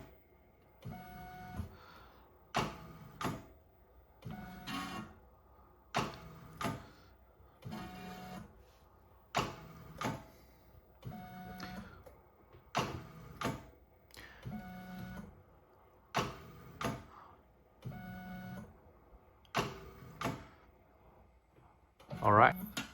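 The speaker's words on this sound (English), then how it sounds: "So the first few roll will be priming the pump." A desktop GPE 9 gummy machine priming its pump gives a regular rhythmic cycle of whirring motor pulses and clicks, repeating roughly every second and a half at moderate loudness, with faint speech now and then.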